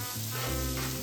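Onion frying in a pan for a Marathi home-style dish, a brief steady sizzle with a low background hum, close and continuous.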